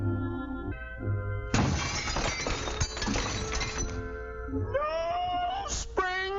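Window glass shattering in a crash of breaking, clinking shards that rings out for a few seconds, framed by rising tonal cat-like meows before and after.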